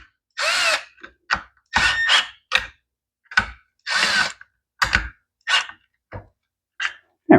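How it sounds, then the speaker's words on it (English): Short bursts of a power tool snug up nuts on a Husqvarna blower carburetor during a carb rebuild, about a dozen quick whirring runs separated by brief silences, close and loud. "Snug them up a little bit."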